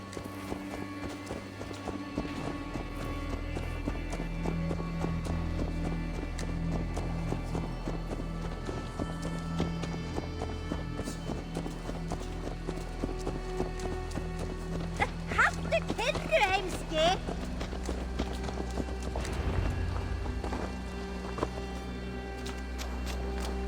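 Horse hooves clip-clop steadily in Assassin's Creed Valhalla, rhythmic footfalls carrying under game music and character talk throughout, with a brief busier flurry partway through.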